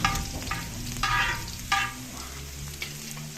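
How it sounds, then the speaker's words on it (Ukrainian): Pieces of silver carp frying in a pan alongside already browned onion and carrot, giving a steady close sizzle with a few brief louder bursts of crackle. "Звільняємо місце для риби і запускаємо нашого товстолоба"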